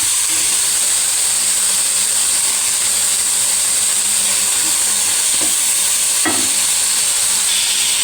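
Prawn fry sizzles steadily in a pan as tomatoes go in, a dense, even frying hiss with a couple of brief clinks and stirring scrapes, no talking.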